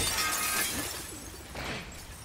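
Glass shattering in the video game The Last of Us Part 2, a bright crash followed by a second smaller burst of breaking shards, fairly close.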